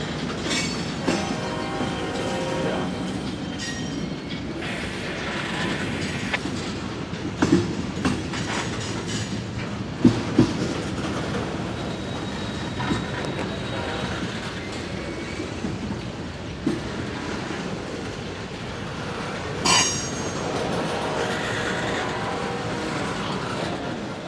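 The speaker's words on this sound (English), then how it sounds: "Iowa Interstate number 514 is next on the point of its manifest train" An Iowa Interstate manifest freight train rolls past at close range, a steady roar of wheels and cars with rhythmic clickety-clack, occasional squeals and clanks, continuing throughout without talk.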